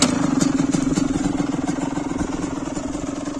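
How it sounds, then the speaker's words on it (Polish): A 2008 Yamaha YZ85 dirt bike engine idles steadily without throttle, a close, loud two-stroke putter with a fast even pulse that holds constant throughout. "Jest to Yamaha YZ85 z 2008 roku."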